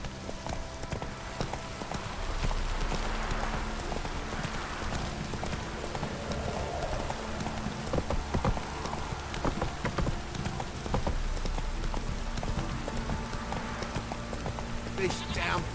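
Heavy rain in The Witcher 3 fills the scene as a steady hiss of downpour, with horse hooves clip-clopping along underneath and occasional game character speech over it.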